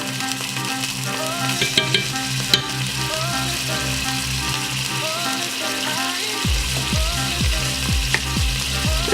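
Ginger paste sizzles steadily in a hot pan while making sweet and sour crab, a continuous bright frying hiss with a few clinks and stirring sounds over a constant background tone.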